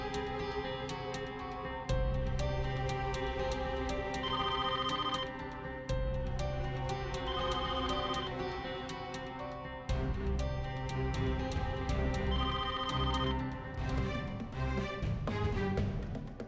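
A landline telephone rings repeatedly in an indoor drama scene, bright electronic ring bursts in a steady repeating pattern, loud and close, over a soft music-like background with no talking.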